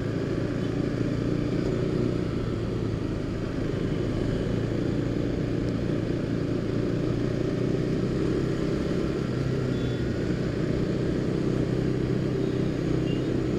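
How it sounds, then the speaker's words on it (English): A KTM RC 390 motorcycle ridden through city traffic, its engine a constant close drone mixed with wind rush and street noise, with no distinct shifts or breaks. "I'll be giving you a feel, an experience of riding the RC 390 in general, in city traffic"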